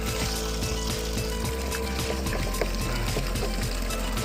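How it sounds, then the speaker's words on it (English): Water runs steadily into a pressure washing tank during a big driveway cleaning job, a continuous close pouring and trickling wash with faint clatter on top and no talk. "I've already got my water running to my tank, which is pretty full"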